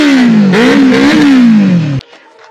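A superbike fitted with a new 40,000-rupee aftermarket exhaust silencer revs loudly up close, its engine note rising and dipping in a single sustained blip before cutting off abruptly.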